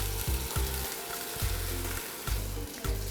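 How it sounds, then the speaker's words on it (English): Steady loud sizzling of chicken frying without oil in a half-lidded pan, with bursts of crackling and spattering throughout. "to continue the frying"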